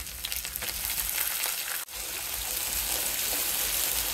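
Spices and onion paste frying in a pan, a loud continuous close sizzle interrupted by a brief dip, then resuming steadily.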